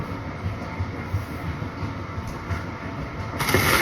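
A washing machine runs a load of clothes at home, giving a steady, continuous low rumbling and tumbling that carries through the whole stretch with no one talking.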